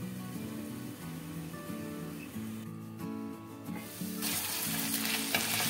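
Ivy gourd (tondli) fries over low heat with a steady, soft sizzle and occasional stirring, and faint tonal background music underneath. The hiss grows louder and brighter toward the end.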